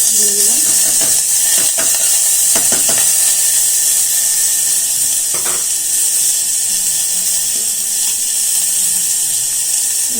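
Fried vegetables tipped into a hot pan, setting off a loud, steady sizzle with scattered clatters and knocks of utensils throughout.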